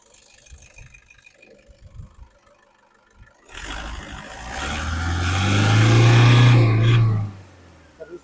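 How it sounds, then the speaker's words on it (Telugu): A 2015 Toyota Innova 2.5 V diesel eight-seater sits quiet with faint talk, then its engine is revved, swelling into a loud, deep, rising drone for a few seconds before dropping back off. "ఇంజన్ సైలెంట్ అండ్ నీట్గా ఉంది"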